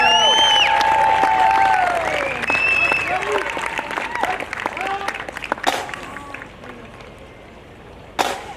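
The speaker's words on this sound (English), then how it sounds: "Big round of applause for the RCMP pipe band" Crowd applause and cheering after the RCMP pipe band at an outdoor parade, loud at first and then tapering off, with whistles, voices and a few sharp claps standing out.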